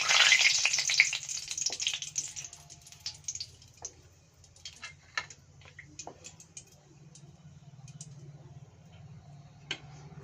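Plenty of onions dropped into hot oil for a meat curry, a loud sizzling burst at the start that settles into a softer crackle and scattered ticks, close.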